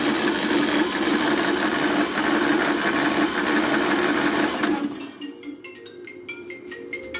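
A Craftsman riding lawn mower engine cranks steadily and loudly for about five seconds, a dense mechanical whir, then cuts off into quieter background.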